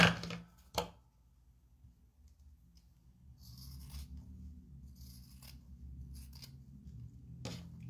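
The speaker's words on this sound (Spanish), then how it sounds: "Sigo con las tijeras" Scissors cut through patchwork fabric close up in a quiet room, a few sharp snips scattered across the stretch with soft rustling and low handling noise between them.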